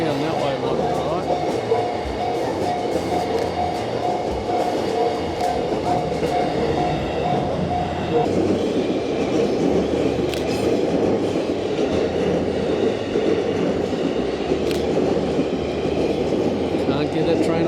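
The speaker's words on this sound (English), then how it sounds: "Can't get that train on top." A train rumbles and clatters steadily past near a station, with a dense, continuous rolling roar close by; faint voices can be heard underneath.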